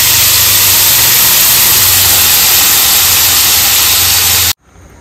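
Ground masala paste for a Goan prawn curry hits a hot pan with a loud, steady, close sizzle that lasts about four and a half seconds, then cuts off abruptly.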